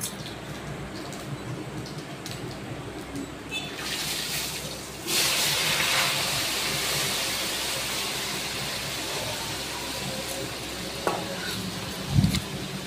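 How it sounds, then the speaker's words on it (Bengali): Meat goes into a hot wok over cumin tempering, and a dense, steady sizzle rises and holds loudly, with occasional scrapes from stirring. "জিরা সম্বার দেওয়া হয়ে গেল, এখন হচ্ছে মাংসটা কড়াইতে ছাড়বো।"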